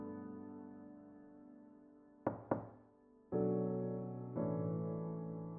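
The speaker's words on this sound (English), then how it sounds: "Someone's knocking at this time of the night?" Knocking on a door at night: two sharp, close knocks over a sustained musical chord, followed by two heavier swelling chord hits.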